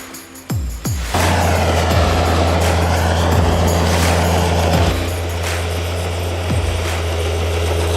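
A Croatian-built MV-10 mechanized mine-clearing machine runs steadily with a loud, continuous heavy diesel engine drone, punctuated by several sharp clanking impacts and brief bursts; no talk is heard.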